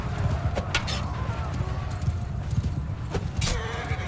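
Horses galloping during a cavalry battle in Mount & Blade II Bannerlord, a busy rumble of many hooves with clip-clop beats and scattered clashes over low battle noise.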